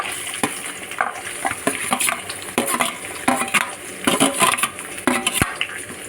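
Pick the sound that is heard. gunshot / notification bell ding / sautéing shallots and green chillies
sautéing shallots and green chillies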